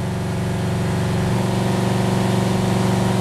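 A car engine idles steadily during a cylinder power balance test, its low even rumble shifting slightly in pitch partway through as one injector is cut, with no talking over it.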